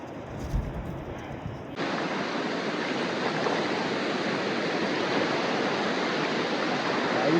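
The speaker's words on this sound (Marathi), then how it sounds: "समुद्र किनारे लाटा कवरले आहे." Sea surf on a Dapoli beach rushes in a broad, steady roar after a brief rumble at the start, waves washing continuously and fairly close.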